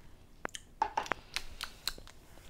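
Chewing a bagel with egg and cheese up close, with several soft, crisp bites and mouth clicks scattered irregularly over a quiet background, no talking.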